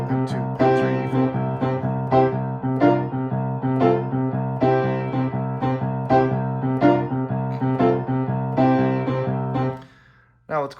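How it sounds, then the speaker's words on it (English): A boogie-woogie riff on piano rolls along in a steady, driving rhythm of repeated bass figures and chords, played loud and alone for about ten seconds before stopping abruptly with a brief final note. "what's cool about this riff is this is a really good boogie riff"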